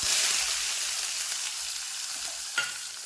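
Mustard seeds, cumin, fenugreek and onion sizzle in hot oil, a steady close frying hiss that fades a little over time, with a brief clink of a utensil near the end.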